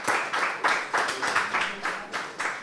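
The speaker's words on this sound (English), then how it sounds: "Please clap for them. Please clap for them." A small crowd applauding steadily, rhythmic clapping in regular bursts that carries on throughout at moderate volume.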